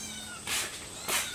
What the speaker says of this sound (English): Couple of sad kittens.